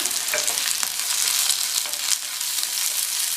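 Onion and garlic sautéing in a pan for chutney as curry leaves go in, giving a bright continuous sizzle with scattered crackles and spatula scrapes, no voices.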